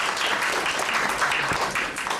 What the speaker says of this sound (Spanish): Un aplauso para Franco también,